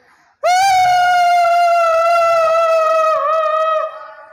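A child lets out a single loud, sustained high-pitched scream lasting several seconds, close and alone, wavering slightly before cutting off.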